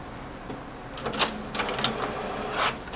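An inkjet printer whirs and clicks printing a test page, its print head making irregular mechanical bursts and shuffling sounds at close range, with no talking.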